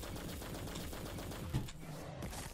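Rapid machine gun fire in the video game The Cycle, a loud, continuous burst of closely spaced shots with one sharper impact partway through, no talking over it.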